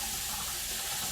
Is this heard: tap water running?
yes